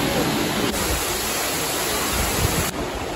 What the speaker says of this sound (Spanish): Ahí está, cascada los vientos y a comer.